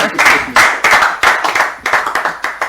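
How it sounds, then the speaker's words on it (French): A studio audience claps for the technicians in bursts of close hand claps, each starting sharply and then fading into brief gaps, loud and rhythmic. "Est-ce que le public peut applaudir pour nos techniciens?"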